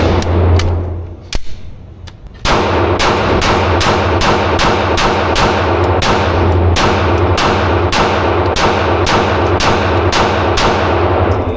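A Glock 19X pistol fires at a shooting range, with a couple of early shots followed by a long, loud, evenly paced string of roughly seventeen rounds, each sharp crack ringing close.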